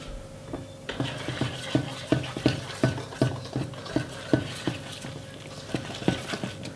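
No-knead black beer bread dough being stirred in a bowl with a utensil, making a steady run of soft, rhythmic scraping knocks, roughly two per second, close up with no speech.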